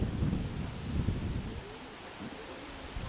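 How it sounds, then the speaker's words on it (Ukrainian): Strong wind buffeting the microphone in heavy low rumbling gusts, strongest at first, then settling into a steadier roar. "вітер який закладає, вітер сильний"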